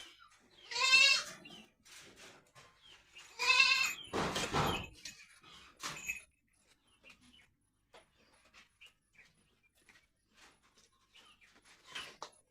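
Goats and their kids on a farm bleat loudly at evening feeding time, with two strong cries early on and a rustling burst, then quieter scattered sounds and a final faint bleat.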